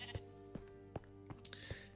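Blocky Minecraft Bedrock sheep bleat repeatedly in short, evenly spaced calls, five or so cries over two seconds, fairly quiet with a faint high hiss between them.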